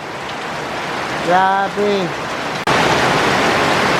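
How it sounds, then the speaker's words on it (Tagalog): Heavy summer rain pours down hard in a garden, a loud, dense, continuous hiss that swells suddenly midway, with a person's brief exclaim over it. "Sobrang lakas ng ulan."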